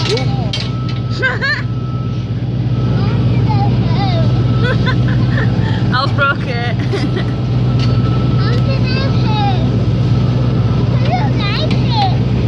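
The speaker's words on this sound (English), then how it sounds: "It's just like a big car engine." A large industrial engine or machine runs steadily at Magna in Sheffield, a constant deep low hum beneath frequent overlapping chatter from people and a child nearby.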